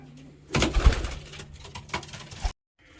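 Pigeons coo inside a loft, soft rolling calls close by, joined by a burst of fluttering and shuffling activity before the sound drops away briefly.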